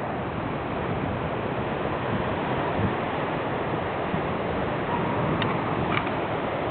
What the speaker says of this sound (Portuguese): As ondas estão agitadas.